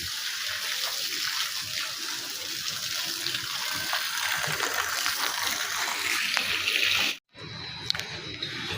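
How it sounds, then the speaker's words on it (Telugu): Water pouring onto garden plants in an outdoor setting, a continuous close splashing stream that runs steadily before a sudden brief cutoff near the end, then resumes. "నీళ్ళు పడతా చెట్లకి."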